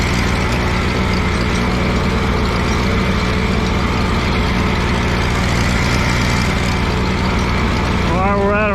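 An Allis Chalmers G tractor engine runs steadily while pulling a cultivator down a crop row, a loud, close, continuous drone with a constant hum and no pauses.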